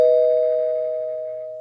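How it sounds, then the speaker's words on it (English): A single sustained electronic doorbell chime rings out clearly and slowly fades away, with no talking. "Doorbell's ringing."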